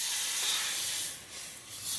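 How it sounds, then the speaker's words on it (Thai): Coconut milk poured into a hot, unwashed pan still fragrant with garlic, giving a steady loud hiss and sizzle that swells and dips slightly over two seconds, with no voices. "น้ำกะทิลงไป"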